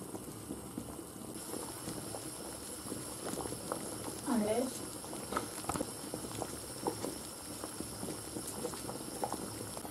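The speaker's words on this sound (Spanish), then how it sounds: "Una vez que está hirviendo, le dejamos 10 minutos." Chestnuts simmer in a pot of boiling water for marron glacé, a steady soft bubbling and patter close by, with a few brief clinks and faint voices in the background.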